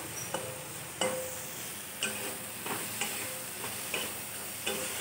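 Beans fry in a pan with a steady, close hiss of sizzling, broken by light clinks from stirring at roughly one-second intervals.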